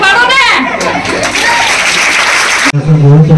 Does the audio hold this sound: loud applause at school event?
yes